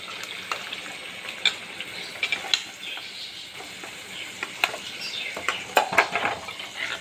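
A sautéed mixture is poured and stirred into ground coconut paste for a fish and drumstick curry, giving a wet, gushing sizzle with scattered clicks and scrapes of a utensil against the pan.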